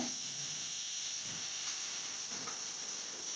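Ginger garlic paste frying in a pan with onions for a mackerel green masala curry, a faint, even steamy hiss held steadily with no other sounds.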